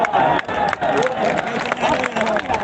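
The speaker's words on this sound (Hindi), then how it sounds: "एक बार जोरदार तालियों से सभी करिए" Applause from the audience at a large rally of Shiksha Mitra teachers, steady clapping with crowd murmur and voices over it, fairly loud and close.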